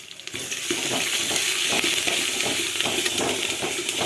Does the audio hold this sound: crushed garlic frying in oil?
yes